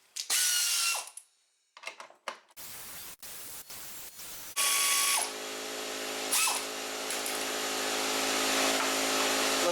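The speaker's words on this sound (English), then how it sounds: "you can use the air power tool to remove them" A pneumatic impact tool removing carbide bolts from an Arctic Cat XF 9000 snowmobile rattles in loud bursts, stopping and starting several times, followed by a sustained whirring hiss close by.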